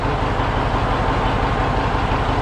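A heavy engine idles steadily with a deep, even rumble, close and continuous, with no voices over it.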